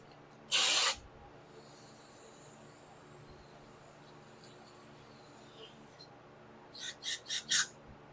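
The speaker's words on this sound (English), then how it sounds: "hit it with the carburetor cleaner." Carburetor cleaner sprayed onto a Honda GX200 carburetor from a pressure washer: one loud, sharp hiss near the start, then several short spurts in quick succession near the end, with only faint background noise between.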